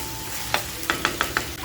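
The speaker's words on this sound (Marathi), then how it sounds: "चिकनसुद्धा ह्याच्यामध्ये छान असं फ्राय करून घ्यायचं आहे" Turmeric-marinated chicken fries over a low flame in a clay pot, giving a steady soft sizzle broken by five sharp stirring knocks in quick succession.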